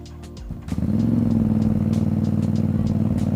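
Ducati Diavel 1260 motorcycle engine catching and revving up from a brief clattery start, then holding a loud, close, throbbing steady drone.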